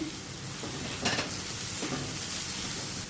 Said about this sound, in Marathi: आता व्यवस्थित परतवून घेते